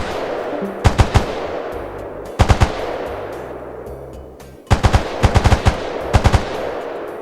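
Bursts of rapid gunfire in the video game Stalker Reforged, several short volleys of sharp shots separated by pauses, loud over a steady background din.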